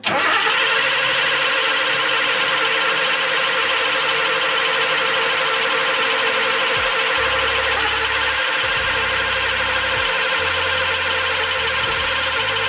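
Datsun 280Z engine cranking over and over without catching, a steady loud starter whir with a rhythmic churning underneath, continuing alone for the whole stretch.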